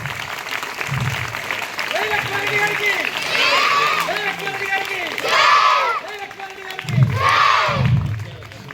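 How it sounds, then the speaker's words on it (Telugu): An audience at a government school reopening event claps in bursts of applause, with voices talking and calling out over and between the clapping. "బండారు లక్ష్మారెడ్డి గారు చప్పట్లు కొట్టాలి"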